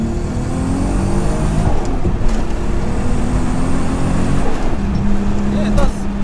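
A turbocharged VR6 engine in an Mk3 Golf runs with a steady, loud mechanical drone and a few rising revs, heard close with muffled voices over it.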